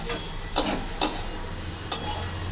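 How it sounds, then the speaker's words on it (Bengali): Prawn heads frying in a pan give a steady sizzle, broken by three sharp metallic clinks of a utensil against the pan. "আমি এবার এটার মধ্যে এই চিংড়ি মাছের মাথাগুলো দিয়ে দিলাম। দিয়ে এটা একটু ভাজতে হবে।"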